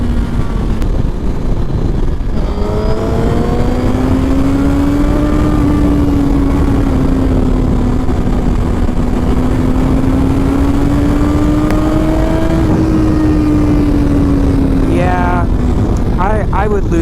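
A 2019 Suzuki GSX-R 1000R sportbike drones loud and steady under heavy wind rush while it is ridden. The engine pitch rises and falls gently, and a rider talks over the noise.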